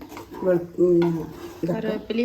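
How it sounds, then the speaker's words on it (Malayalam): Roasted semolina is stirred with ghee in a pan for rava biryani, giving a few close scraping strokes of a spoon against the metal, with squeaky tonal scrapes and light sizzling between them. "ചെറിയ തീയിൽ വെച്ചിട്ട് നമ്മളിതൊന്ന് ഇളക്കി ഇളക്കി ഇളക്കി ഇളക്കിയിട്ട് ഒന്ന് വേവിച്ചെടുക്കണം"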